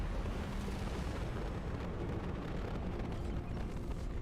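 An explosion in the video game Mass Effect 2, a dense, sustained roaring rumble with heavy low-end debris noise that stays loud and steady throughout, with no voices over it.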